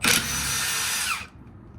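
Milwaukee 2967-22 half-inch high torque impact wrench on a Forge 6.0 battery hammering a nut, one loud sustained burst of rapid impacts that cuts off abruptly, heard up close with no talking.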